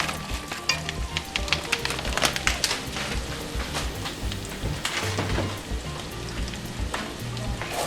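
Frozen shrimp hit a buttered skillet and crackle with a steady, close, broadband sizzle, with faint music playing low underneath.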